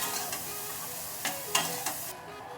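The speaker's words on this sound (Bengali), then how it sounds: "সুন্দর করে চিংড়ি মাছ ভেজে নিয়েছি, এখন আমি তুলে নিচ্ছি।" Fried prawns sizzle faintly in oil as they are lifted out of a pan during village-style Bengali cooking, a soft steady hiss broken by a few light scrapes.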